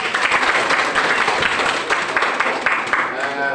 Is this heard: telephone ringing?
no